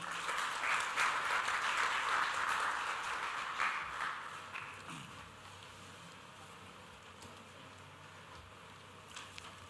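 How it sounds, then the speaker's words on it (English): Applause at a corporate awards event, a crowd clapping fairly loudly for about four seconds before dying away into a quiet hall with faint room noise. "please put your hands together for the man who leads and is the perfect host for the evening"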